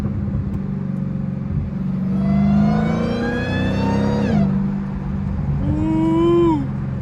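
A fast Dodge Hellcat accelerates hard in traffic, its supercharger whine climbing in pitch through several gears over a steady engine rumble, loud and close from the cabin, then backing off and rising again briefly.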